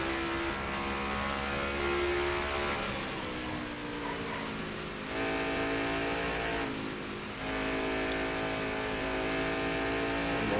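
A Next Gen NASCAR Cup car engine in NASCAR Heat 5 at Phoenix Raceway drones at high revs, loud and steady, the pitch rising and falling through gear changes with other cars audible nearby.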